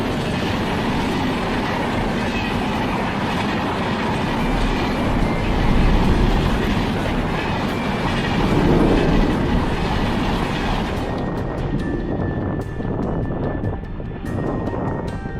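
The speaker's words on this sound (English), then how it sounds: "Watching a train crash into a car is a heart-stopping moment." A train rolls along railway tracks with a loud, continuous roar and rumble that holds steady for a long stretch before thinning out near the end.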